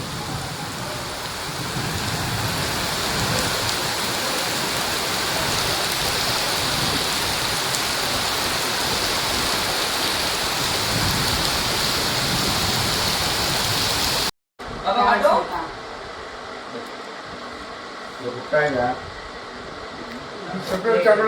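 Heavy monsoon rain pours in Rajapur, a dense, loud, continuous roar for most of the stretch, then cuts off abruptly, followed by quieter background with people talking nearby.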